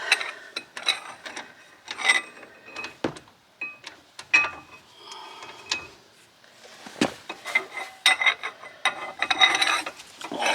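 An iron pipe used as a lever breaks loose a bolt on a Volvo during ABS ring replacement, giving repeated close creaks, scrapes and metallic ratcheting strains in uneven bursts with short pauses, no talking.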